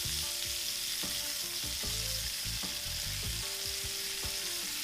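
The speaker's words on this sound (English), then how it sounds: "we'll just fry like that for about 2 to 3 minutes on one side" Chicken pieces fry steadily in a pan for a chicken, leek and mushroom cream sauce dish, a continuous close sizzle with scattered clinks and low bumps of utensils throughout.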